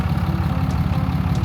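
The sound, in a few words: diesel truck engine idling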